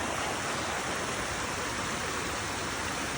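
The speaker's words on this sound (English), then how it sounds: "Starting off with the waterfall." A waterfall on the Appalachian Trail rushes steadily and loudly, a dense unbroken roar of falling water heard alone with no voices.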